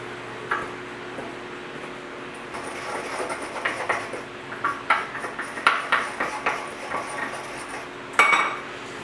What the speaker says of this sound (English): you can just take 2 spoons and crush the tablets in between the spoons